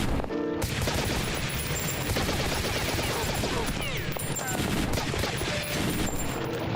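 Sustained bursts of video game gunfire fired at the player, dense and continuous rapid shots with voices talking over the shooting.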